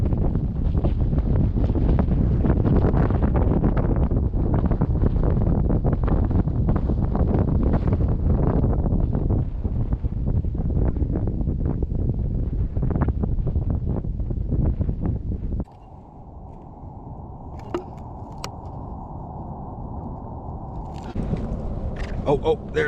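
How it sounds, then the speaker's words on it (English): Strong wind sweeps across an open frozen lake with no bank for shelter, roaring loudly and steadily against the microphone before easing, with speech heard faintly. "nothing to shield the wind, just straight right on your face."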